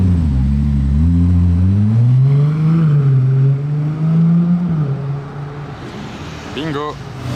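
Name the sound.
green McLaren 600LT Spider car arriving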